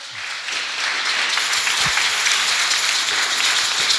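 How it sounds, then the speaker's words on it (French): Congregation applauding at a church service, a steady dense wash of clapping that holds at an even level throughout, with no one speaking over it. "On acclame, on acclame, on acclame."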